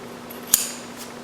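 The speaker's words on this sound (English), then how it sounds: "clip across at the point and then trim the sides" Scissors make one sharp metallic snip through thick pajama fabric, then a fainter second snip, close by and against a quiet background hum.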